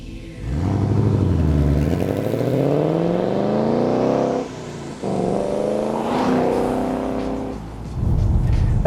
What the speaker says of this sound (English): This isn't a quiet car with a loud mode, it's a really loud car with a quiet mode